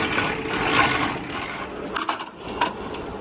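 Trailer landing legs being wound up by hand, a ratcheting, clanking crank with metallic clicks, close and moderately loud, in short uneven bursts with no talk.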